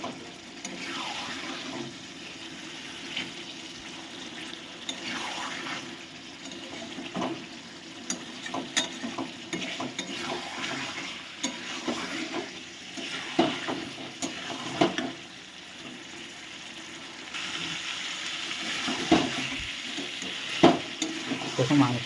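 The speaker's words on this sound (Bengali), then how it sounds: "এবার আমি আরেকটু কষিয়ে নিই।" Chicken is stir-fried for kosha in a pan, a continuous close sizzle broken by frequent scraping and clattering stirs of a spoon, with no talking.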